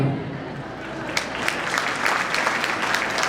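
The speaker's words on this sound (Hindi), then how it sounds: "उससे भी सुंदर आपकी तालियां।" An audience at a Digambar Jain community kalash installation ceremony claps continuously, a dense, even wash of applause that holds steady throughout.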